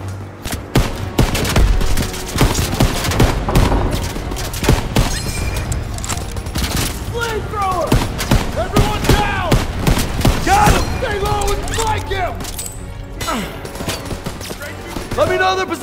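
Machine gun fire in a Call of Duty WWII battle, heavy bursts and rapid rattling volleys close by with booming explosions, shouted voices and a horse whinnying amid the chaos.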